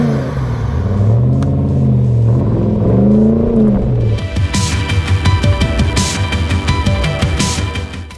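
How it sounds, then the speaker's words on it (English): A Land Rover Defender D90 with an LS3 430-horsepower V8 and a 6-speed automatic idles with a deep, wavering rumble. It then revs hard into a loud, steady, raspy engine roar that stays close. "This D90 is powered by our LS3 430 horsepower engine with 6-speed automatic transmission."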